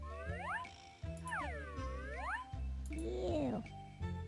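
Cartoon cat meows from the Spy Fox 2: Some Assembly Required video game, several exaggerated sweeping meows in close succession ending in a warbling yowl, with voiced tones and other game sounds mixed in.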